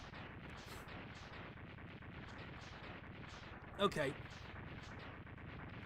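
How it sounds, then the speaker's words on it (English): A boss in the Mega Man X2 video game goes down in a long chain of rapid, repeating retro explosion blasts that run at an even pace, while a person briefly says a single word. "These explosions take forever, and I despise it."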